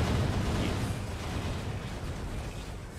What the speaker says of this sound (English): these are the things that I used to freaking meso explosion.